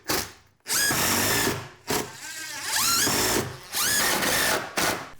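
A power drill drives screws through plywood onto a garage workbench shelf, several loud bursts of whirring separated by short pauses.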